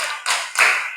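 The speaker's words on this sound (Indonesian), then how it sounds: "kita beri aplaus kepada kelompok 3 dengan tepuk wow" A small group in a classroom claps in two or three quick, sharp bursts, fairly close, short and unaccompanied by speech.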